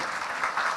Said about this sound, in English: no, just applause